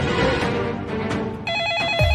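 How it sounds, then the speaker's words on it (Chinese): A telephone rings indoors amid background noise, the bright repeating electronic ring standing out clearly in the second half of the moment. "哦，电话响了，电话响了。"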